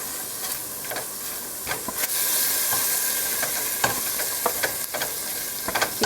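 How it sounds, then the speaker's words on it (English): Coriander being stirred into onions and spices frying in a pan, a constant loud sizzle with scattered scraping clicks from the stirring spoon, close up. "I'm going to add some coriander in there and stir"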